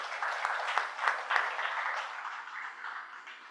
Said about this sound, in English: But give Shashank ji a big round of applause